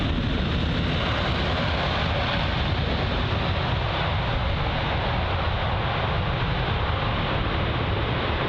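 An Air India Boeing 787 Dreamliner lands at London Heathrow without reverse thrust. A loud, broad, steady jet roar mixed with wind rush holds throughout, with no talk.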